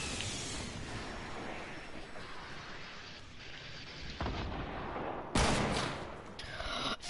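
Rocket launcher fire in the shooter game Fortnite: a steady rumbling barrage of distant explosions, then a sharp loud blast near the end followed by another burst, with no talking.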